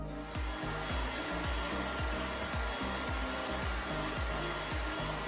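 A heat gun blows hot air steadily and close as it reheats a WoodUbend moulding during a furniture makeover, a constant whooshing hum with a faint pulsing flutter and no talking.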